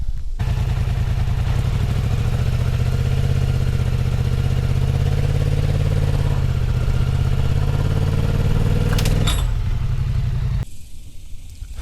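A Polaris 4WD ATV, running in 2-wheel drive with strands of baling twine wrapped on its wheels, drives steadily with a loud, continuous engine drone and rattling clatter for about ten seconds, then cuts to near quiet.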